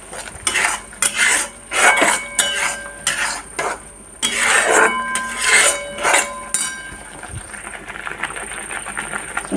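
A spoon clinks and scrapes steadily against a pan while a salted, spiced dish is stirred beside cooking rice, with irregular metallic knocks close by and no talk.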